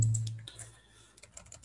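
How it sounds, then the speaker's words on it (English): Typing on a laptop keyboard while entering a web address: a short, quiet run of close key clicks with no talk. "I'm typing"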